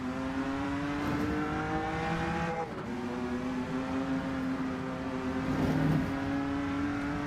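Simulated race car engines from the sim racing game Rennsport drone steadily with a sustained tonal whine, holding pitch with small shifts as gears change, loud and continuous with no talking.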